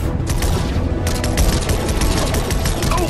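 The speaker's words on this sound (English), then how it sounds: "I was hoping we'd have an excuse to try out the battle bus's laser cannons" Laser cannons on the battle bus in Fortnite firing in a dense, continuous barrage of rapid blasts, loud and close, with a steady booming rumble underneath.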